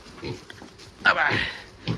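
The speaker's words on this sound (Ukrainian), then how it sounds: "Хто це у нас? Це у нас кабан." Young boar piglet of about twelve kilos on a farm, giving a few short grunts that swell into one louder snort-like burst near the middle, with faint talk in the background.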